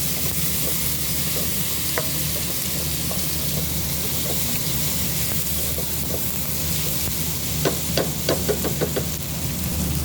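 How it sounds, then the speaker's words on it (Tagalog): Ingredients with salt, cumin and coriander powder are stirred in a hot pan, a steady sizzle under a low hum, with scattered scrapes and a quick run of utensil knocks near the end. "Then, mix lang natin ang mga ingredients."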